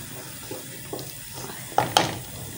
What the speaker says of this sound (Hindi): थोड़ा पानी डालूँगी तो फिर ये गलेंगे आलू और गाजरें